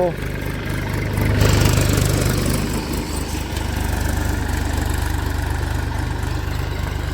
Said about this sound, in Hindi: अब दोस्तों दूसरे गियर में लगा दिया है बबलू भाई ने ट्रैक्टर को।